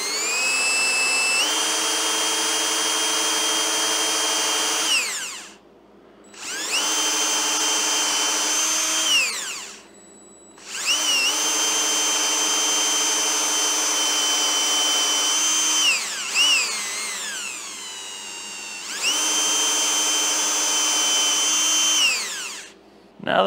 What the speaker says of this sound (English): I'm gonna carefully drill a hole straight down perpendicular.